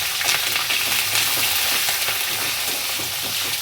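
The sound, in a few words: onions frying in a pan for bisibele bath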